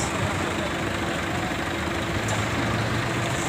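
A large diesel bus rumbles steadily as it passes close by, its low engine drone filling the scene with broadband road noise throughout.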